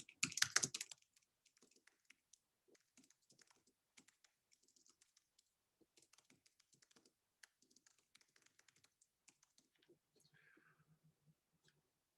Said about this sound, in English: I'll type that for you.